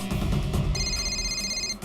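A telephone rings in a household scene, bright repeating electronic tones cutting in after a moment over low background rumble, with no talk.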